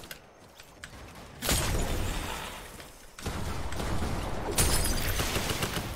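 Gunfire aimed at a tree in Fortnite: two loud, dense stretches of rapid shots with crackling impacts, separated by a quieter gap, fairly close and without talk.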